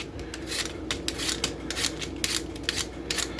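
A peeler scrapes skin off old potatoes in short, rhythmic rasping strokes, about a dozen swipes of close, scratchy rubbing over a low background hum.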